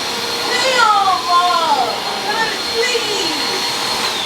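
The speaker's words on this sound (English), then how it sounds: "why you want to vacuum when I'm asleep?" A household vacuum cleaner drones steadily at close range throughout, with voices talking and pitched vocal sounds sliding over the noise.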